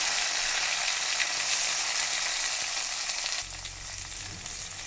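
Sliced onions drop into hot oil with fennel, cumin and mint, giving a steady, loud, close sizzle and crackle of frying that dips slightly partway through, with a low rumble underneath.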